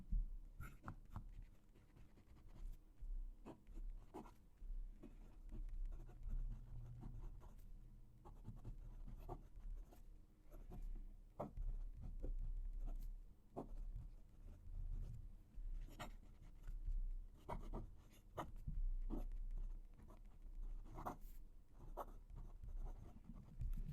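A pen writes on thin Tomoe River paper with faint, close scratching strokes, irregular bursts of nib sound against a quiet room over about twenty seconds, with no talking.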